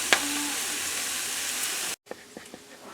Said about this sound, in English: let this sizzle a little bit and simmer down